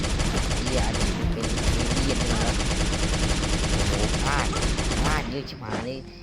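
Dense, continuous automatic gunfire in a Jurassic survival video game, loud and sustained for several seconds before thinning out, with voices talking over it.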